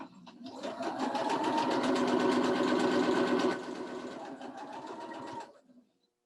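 A sewing machine stitches a quilt seam in one continuous close whirring run that eases slightly partway through, then stops abruptly, with no voices.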